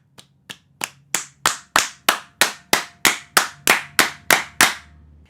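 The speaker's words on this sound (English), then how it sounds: "We'll start by clapping it. And here's what a build or a 16-beat crescendo sounds like." Hand claps building a 16-beat crescendo samba rhythm, sixteen sharp evenly spaced claps that start soft and grow steadily louder, heard alone and close.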